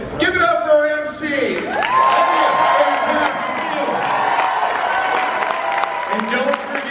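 Convention audience at MEGACON 2019 applauds and cheers for the MC, a dense, loud wash of clapping with whoops and shouts sustained throughout, with voices mixed into the crowd noise.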